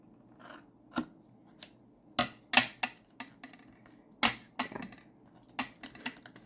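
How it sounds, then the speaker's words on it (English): Scissors snip through material for a steampunk cover in a run of sharp, close cuts, some single and some in quick pairs, spaced irregularly with short pauses between. "this side needs to be cut a little bit right there"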